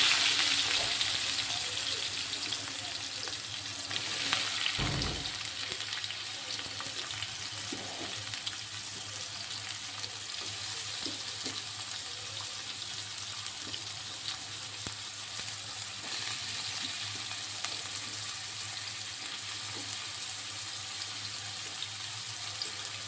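Onions and green chilies sauté in a hot pan after fennel seeds have been fried, giving a steady, close sizzle that runs evenly throughout, with a brief knock of a utensil early on.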